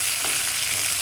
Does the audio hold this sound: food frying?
yes